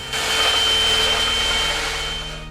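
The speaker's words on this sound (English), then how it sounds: "I use a vacuum to clean up all of the drywall dust" A vacuum cleaner sucks up drywall sanding dust in a steady, close, loud whirring roar, with a faint motor tone that holds constant throughout.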